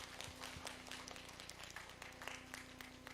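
A church congregation claps for a child during a Sunday service, a quiet, distant patter of applause with a soft murmur in the room.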